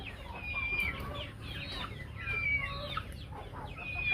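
A flock of about 200 poultry chickens clucks and squawks in overlapping bursts, with occasional higher calls over a low background hum, close and busy with no speech.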